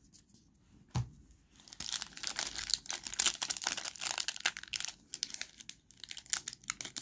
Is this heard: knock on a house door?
no